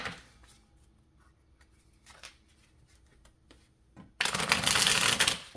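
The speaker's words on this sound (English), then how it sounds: "these cards are so satisfying to shuffle" Cupid's Arrow Oracle cards are shuffled in one loud, crisp riffling burst near the end, after quieter soft handling and light taps.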